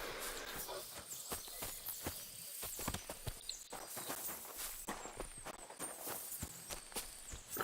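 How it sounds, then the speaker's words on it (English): A lone horse on a road in Kingdom Come Deliverance II, its hooves clopping in an uneven rhythm of close, crisp steps, with some faint voice-like sounds mixed in. "There's a horse on the road though by itself."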